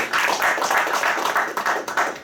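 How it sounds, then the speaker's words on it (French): Applause from a conference audience in Montreal, a steady burst of many hands clapping close by that fills the short moment with dense, even patter. "Vos applaudissements, s'il vous plaît."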